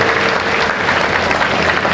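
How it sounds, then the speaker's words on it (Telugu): A crowd at a charitable trust's mother-honouring ceremony claps steadily, a dense, loud wash of applause lasting the whole moment without pause. "మన వల్లకే మనం చప్పట్లు కొట్టుకోవాలి."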